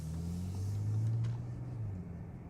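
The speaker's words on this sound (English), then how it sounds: "It's rumbling in the back there." Deep, low exhaust rumble from a 2019 Bentley Continental GT idling and burbling near the rear, steady and moderately quiet with a slight swell in the middle.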